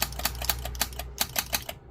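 Robyn GT-7C CB radio under repair producing rapid typewriter-like clicking, a fast series of sharp, fairly loud ticks in an uneven rhythm, about a dozen clicks with a brief gap midway.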